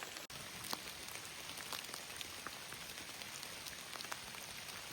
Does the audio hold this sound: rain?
yes